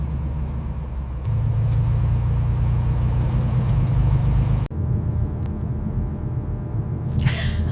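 An old 1950s-era car's engine runs steadily while driving, a loud continuous low rumble that holds for several seconds before shifting to a slightly lighter drone.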